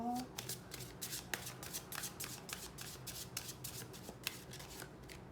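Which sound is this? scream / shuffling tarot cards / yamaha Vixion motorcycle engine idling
shuffling tarot cards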